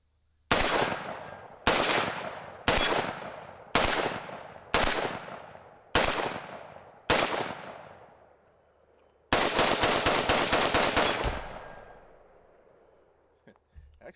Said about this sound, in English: I can hear the brass hitting the tripod.